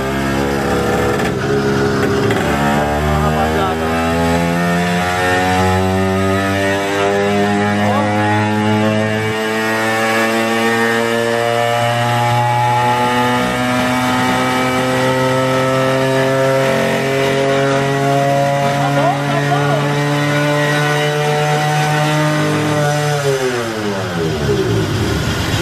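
A 100cc motorized bicycle's small two-stroke engine revs on a dynamometer, a loud, buzzy whine climbing steadily in pitch for over twenty seconds before dropping sharply at the end, with people talking faintly underneath.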